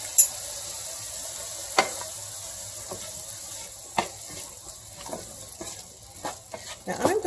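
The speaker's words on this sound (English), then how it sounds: "Now I want it to keep simmering" Red chili paste sauce simmering in a pan gives a soft, continuous sizzle, broken by intermittent spoon scrapes and light clinks.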